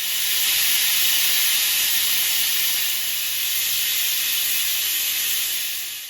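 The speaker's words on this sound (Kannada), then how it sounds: "ಲಿಡ್ನ ಮುಚ್ಚಿ ವಿಸಿಲ್ ಹಾಕಿ ಮತ್ತು 2 ವಿಸಿಲ್ ಕೂಗಿಸ್ಬೇಕು" A pressure cooker on the stove holding a South Indian vegetable sagu curry lets off a steady, loud hissing rush of steam that stays level for several seconds and tapers slightly near the end.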